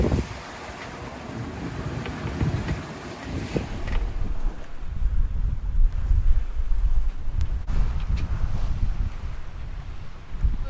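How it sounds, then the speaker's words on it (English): Strong wind of about 20 knots buffets the microphone over the rush of water against an old 31-foot sailing boat crossing the Atlantic, loud and continuous with gusts swelling midway. "Today it's quite windy."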